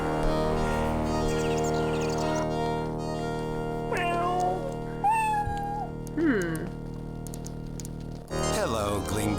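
A cat in the video game Star Trek Judgment Rites meows several times in drawn-out, wavering cries, up close and clear over a steady background music bed.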